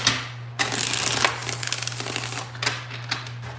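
Tarot cards being shuffled by hand, close and crisp riffling and rustling bursts over a faint steady hum.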